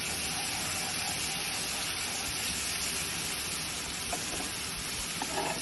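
Spice paste sizzles steadily in hot oil while cooking malai chicken, a constant close hiss with a few faint stirring clicks near the end.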